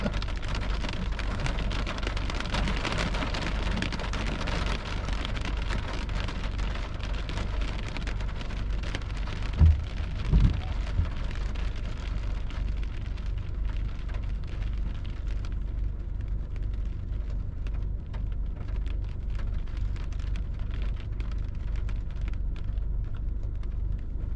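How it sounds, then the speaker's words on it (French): Heavy rain pouring during a night thunderstorm in July, a dense continuous roar of rainfall close by, with a brief low rumble of thunder midway and the downpour easing slightly toward the end. "Hey, gros rideau de pluie en avant,"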